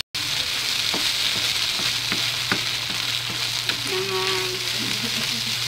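Hotdog sisig sizzling in a pan, a loud continuous frying hiss with occasional stirring clacks and a faint hum underneath, while someone speaks briefly.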